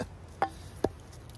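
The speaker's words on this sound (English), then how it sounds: "Chop it off." An LTWK Regulator knife strikes twice in quick succession, two sharp, fairly faint chopping knocks spaced under half a second apart against a quiet background.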